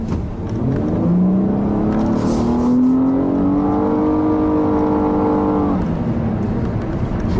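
A 2015 Nissan Altima 3.5 SL sedan's V6 engine revs up steadily as it accelerates, its whine climbing in pitch for several seconds before easing off, loud and close.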